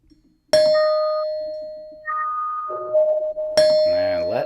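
Bright chiming bell tones ring out as a sound effect on a podcast, a loud struck ding with long decaying ring, a second pitch joining, then another strike near the end, with no talk.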